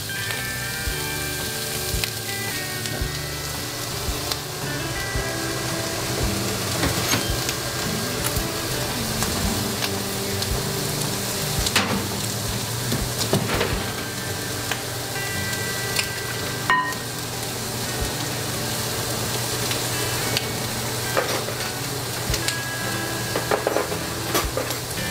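Bacon frying in a pan for breakfast pizza, a steady close crackle and spatter of grease with occasional faint clinks of cookware, continuous and unbroken with no talking.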